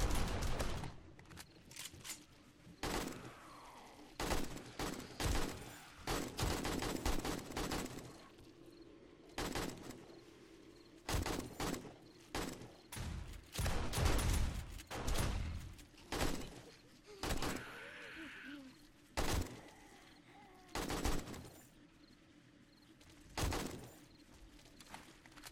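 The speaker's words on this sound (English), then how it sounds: "let's have a little bit of time with this gun now." Desert Eagle pistol fired repeatedly during a zombie horde night in the game 7 Days to Die (Darkness Falls mod): loud, sharp single shots in irregular bursts, with brief pauses and some speech between volleys.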